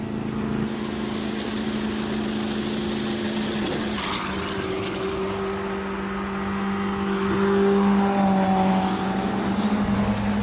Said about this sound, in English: Sounds like it's only running on about 3 cylinders.